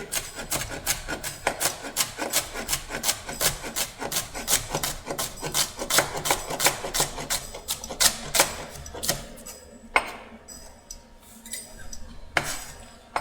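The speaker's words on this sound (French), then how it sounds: "toujours le même geste pour hacher" A knife chops food on a cutting board in quick, steady repeated strokes, crisp close taps that slow and thin out toward the end.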